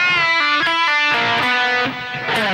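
An electric guitar plays the closing phrase of a song, a short run of bright picked notes ending in a full-step bend that slides up and back down, loud and alone.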